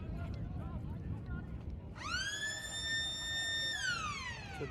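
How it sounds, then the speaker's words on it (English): At a country football match, the quarter-time siren blares long and loud for a couple of seconds, then trails off, over the constant roar of a large crowd. "And there goes the siren for quarter time."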